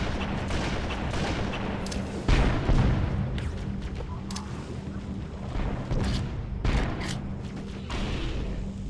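Heavy tank cannon fire in the Halo shooter, a dense string of booming blasts and gunfire with louder hits near 2.3 and 6.7 seconds over constant battle noise.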